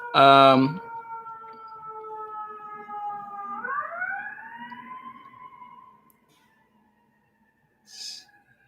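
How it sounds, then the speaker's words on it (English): Ambulance siren wailing on a city block, a steady tone that bends upward as the vehicle passes and then fades out, with a loud thump at the start and a short noise near the end. "Sorry for the ambulance that's about to go by,"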